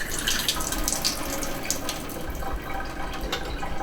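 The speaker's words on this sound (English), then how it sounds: "And I soaked some cashews overnight in some good water. And we're going to drain the water." Water runs and splashes steadily as it drains off cashews soaked overnight, a close, continuous pour with small drips and spatters and no talking.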